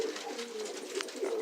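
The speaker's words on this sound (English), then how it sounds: "I love these birds to death." Pet doves or pigeons coo continuously and close by, soft repeated throaty calls running through the whole moment with no talking.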